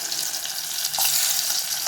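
Crushed garlic cloves hit hot oil for a tempering, giving a brief close hiss and sizzle that swells slightly partway through.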